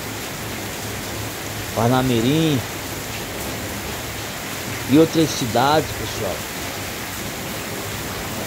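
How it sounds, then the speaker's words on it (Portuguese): Heavy night rain falls steadily over Pirangi do Norte in Parnamirim, Rio Grande do Norte, a dense continuous hiss throughout, with brief stretches of speech from a voice layered over it. "É muita chuva, hein, gente?"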